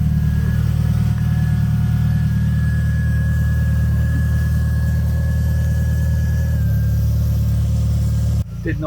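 A Mk4 Volkswagen Golf 1.8T engine idles close by after a baffled sump install, with a constant low rumble and a faint high whine, cutting off abruptly near the end.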